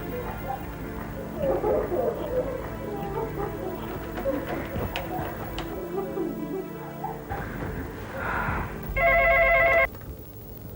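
A telephone rings briefly near the end with a loud electronic trill, following a stretch of busy background sound and murmuring.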